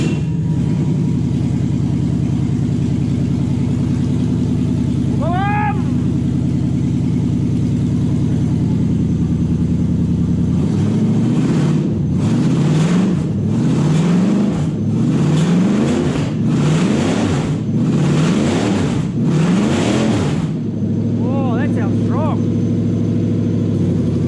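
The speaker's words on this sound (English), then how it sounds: "And hit the starter button." A Toyota 1UZ V8 engine, with a check engine light showing, sits under a steady electrical hum and one brief chirp. It then cranks, fires and revs in a string of rising blips before dropping back to a smooth idle, loud and close.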